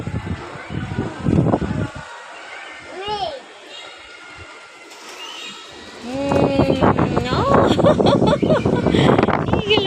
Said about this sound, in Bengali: বারান্দায় কি বাতাস